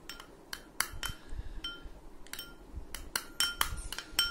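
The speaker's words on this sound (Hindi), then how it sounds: "तीनों चीज़ों को लेके हमें मिक्स कर लेना है" A spoon mixes face pack ingredients, including orange juice, in a small bowl, making a series of light, bright clinks and taps against the bowl, close but quiet.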